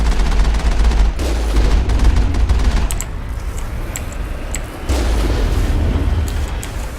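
Heavy gunfire in the Mass Effect video game: loud, sustained booming bursts of shots and blasts roll on close, pause briefly, then surge again, with no talk over them.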